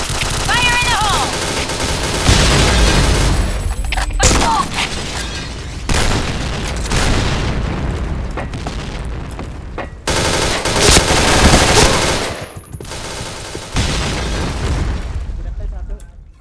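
Grenade blasts and rapid automatic gunfire from the shooter game Point Blank come loud and dense in heavy booming bursts and sustained rattling volleys, with shouting voices over the combat.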